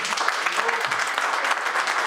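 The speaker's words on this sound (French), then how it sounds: "Est-ce qu'on peut juste applaudir?" An audience applauds at a gathering thanking supporters, giving a brisk, crowded clatter of clapping hands, close and steady throughout with a few faint voices mixed in.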